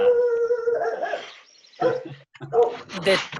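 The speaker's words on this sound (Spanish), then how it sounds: "estoy oyendo unos ladridos por ahí" A dog barks indoors at a house, set off by the doorbell, in a few short bursts mixed with people talking.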